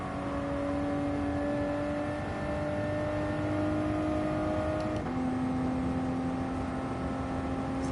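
A car engine hums steadily while driving in a video game, a smooth, even tonal drone at moderate volume that briefly dips in pitch as if shifting gears, then holds steady, with no voices.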